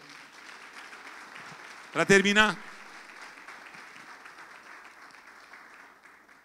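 A church congregation applauds at a sermon on ministerial calling, a steady wash of clapping running throughout, with someone briefly speaking over it partway through.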